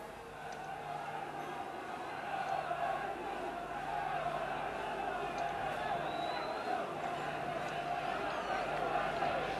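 Football crowd at a 1991 Sunderland v Leicester Division 2 match roaring and cheering steadily throughout, a dense broad wash that rises slightly partway, with commentary talk over it.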